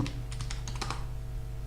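Password being typed on a computer keyboard while setting up a Hyper-V virtual switch: a quick run of light, close key clicks lasting about a second over steady low machine hum, no talking.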